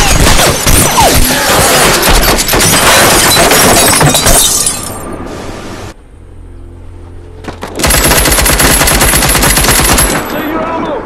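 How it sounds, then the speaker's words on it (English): Rapid machine-gun bursts crackle through a film shootout, loud and dense for several seconds, then a brief lull with low rumble before another sustained volley of automatic fire erupts. "Are they shooting at us?"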